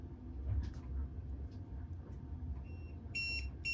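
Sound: man overboard alarm beeping on sailboat

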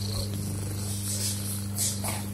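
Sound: cat purring

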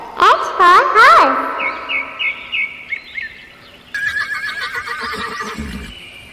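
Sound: horse neighing and hooves clip-clopping

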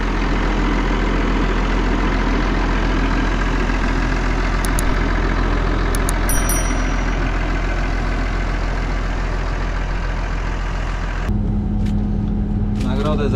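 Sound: farm vehicle engine idling and driving in a farming video game

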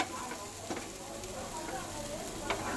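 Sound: sautéing idli upma in a pan

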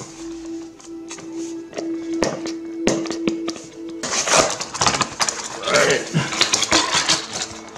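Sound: opening a Belkin wireless charging pad box

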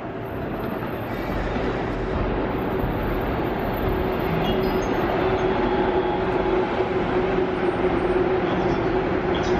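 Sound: Acty rapid train arriving at platform 2

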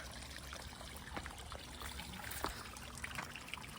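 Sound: flowing river water

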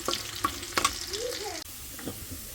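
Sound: garlic frying in oil for tempering greens

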